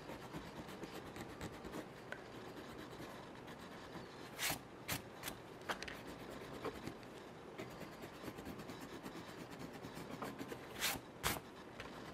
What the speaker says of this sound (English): I'm going to go ahead and erase these